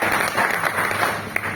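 An audience at a speech in Rajgir, Bihar breaks into a short burst of applause, many hands clapping together steadily for a moment.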